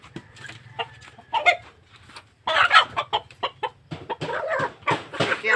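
Chickens clucking in a series of close, bursty calls, loudest in the second half, with a low steady hum underneath.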